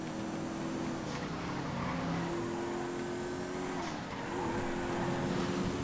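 Bullet retro supercar driven in GTA FiveM, its steady engine drone rising and dropping through gear shifts, loud and close throughout with no voices.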